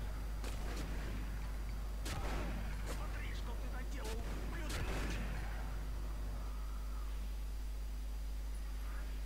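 Gunfire in The Punisher video game comes as a scattered run of sharp shots and bursts over steady game noise, with people talking throughout.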